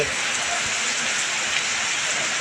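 Steady, dense rain from an afternoon thunderstorm pours down in a continuous hiss, with no other sounds standing out.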